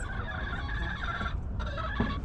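Chickens and a rooster clucking steadily around a backyard chicken yard during a two-flock integration, a dense continuous flock chatter with no talk.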